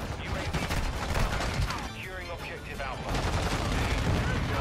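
Rapid bursts of gunfire from weapons in Modern Warfare 2 crackle in dense, overlapping volleys, loud and continuous with a short lull in the middle, with a voice talking underneath.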